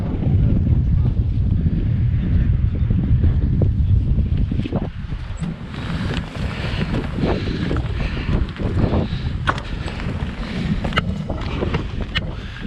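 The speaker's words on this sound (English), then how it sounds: "The winds don't feel that bad" Gusting wind buffeting the microphone in a protected mountain bowl during a winter storm, a loud continuous low roar with surging gusts and occasional rustles, no voices.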